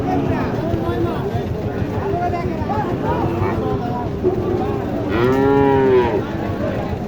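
A large cow at a cattle market in Naogaon moos once, a loud, close call near the end, over a steady bustle of market noise and people talking.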